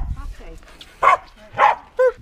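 A dog barks three times in quick succession indoors at a family home, sharp and close, with faint talking and whimpering around the barks.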